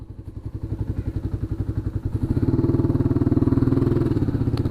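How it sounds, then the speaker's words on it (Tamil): A Yamaha R3 300cc motorcycle's exhaust note while riding: a loud, close, rhythmic pulsing engine that steadies and swells into a fuller, continuous drone partway through, with no talking. "இப்போ எக்ஸாஸ்ட் நோட். வாவ்,"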